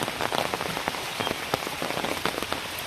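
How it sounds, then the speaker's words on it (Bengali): Steady rain falling on surfaces in a rural Bangladeshi village, a dense patter of close drops with occasional louder splats, continuous and unbroken. "শুরু হয়েছে বৃষ্টি পড়া, তো এখন পর্যন্ত মানে এরকমই আছে"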